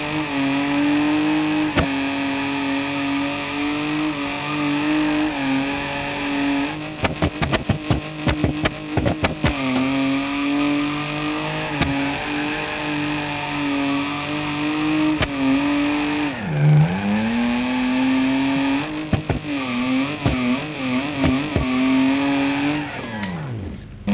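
A BMW E30 in BeamNG Drive is driven hard and thrown sideways into a drift. The engine drones loudly and continuously, with revs rising and falling, a deep dip mid-run, and clicks from gear or handbrake inputs.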